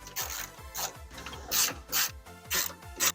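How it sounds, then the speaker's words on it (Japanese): A ratchet wrench clicks rapidly in repeated bursts while bolts are loosened on a Suzuki Wagon R MH21S, close and loud, the strokes coming in a steady back-and-forth rhythm. "ここの3本のボルトを外します。"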